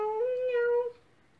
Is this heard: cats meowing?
yes